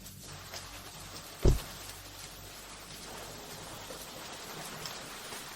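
Steady rain falls as a soft, even hiss, broken by one dull thump, with no voices.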